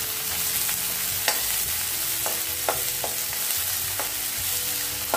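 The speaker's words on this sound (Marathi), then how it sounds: "कांदा थोडा नरम होईपर्यंत परतवून घ्यायचा आहे।" Onion and green chili sauté in about two tablespoons of hot oil for a red amaranth vegetable dish. A steady close sizzle runs throughout, and a few sharp clicks of a spatula against the pan break through it.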